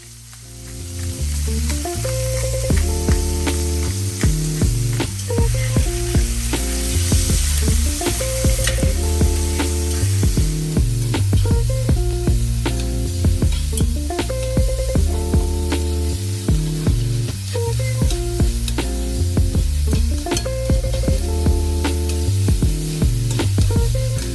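Beef browns in a hot pan for a beef stroganoff, a loud continuous sizzle and crackle of frying meat with occasional scrapes and stirring, close up and without voices.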